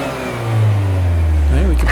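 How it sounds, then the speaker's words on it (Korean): A 2017 Kia K5 GT's Theta engine revs up from idle into a strained, whining rise, loud and close, holding high as the revs climb. "이게 바로 세타 엔진의 소리예요."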